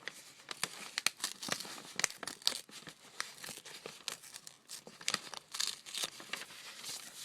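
Paper rustles and crackles as the glued edge of a junk mail envelope is carefully peeled apart, a busy run of close, crisp crinkles and short tearing snaps with no voices.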